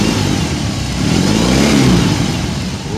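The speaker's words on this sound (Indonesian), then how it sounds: "itu tadi adalah suara dari mesin 1802 cc dengan tenaga 91 daya kuda" A BMW R18 Classic motorcycle with its 1802 cc, 91 hp boxer engine revs hard close by, a deep bassy roar that swells and falls back over a few seconds without any talk.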